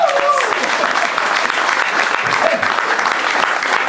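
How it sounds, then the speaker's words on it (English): A crowd applauds at a Massachusetts political candidates' event, a dense, loud, sustained wash of clapping hands filling the room without pause, with voices mixed faintly underneath. "can I get a round of applause?"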